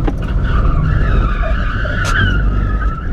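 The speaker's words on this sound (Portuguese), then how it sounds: "Puxei o freio de mão aqui, dei uma abusada, não deu muito certo." Tires skid and squeal in a racing video game as the handbrake is pulled hard on a lap, a loud continuous screech with a sharp burst partway through over steady engine roar.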